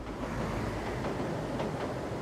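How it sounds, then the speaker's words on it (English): An old, slow commuter train on the outskirts of Bandung, Indonesia, rumbles steadily with a dense broadband roar and faint rhythmic clacking of wheels, heard from nearby. "Here on the outskirts of Bandung, the commuter train is old and slow."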